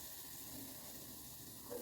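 Urad flour and poha vadas frying in hot oil, a continuous soft hiss and sizzle heard close but faint, with no talk.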